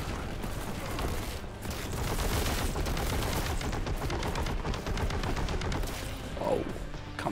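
Heavy bolter fire from Warhammer 40,000: Boltgun, a dense, continuous stream of loud, close gunfire with crashing impacts running throughout, no voices.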